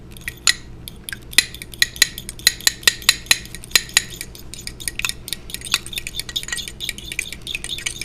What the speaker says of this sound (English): I'm going to take out a small fork. We're going to whisk this